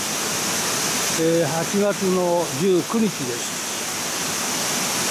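A mountain stream, a small tributary at the source of the Kuzuryu River, rushes in a steady, even wash of water while someone speaks briefly over it.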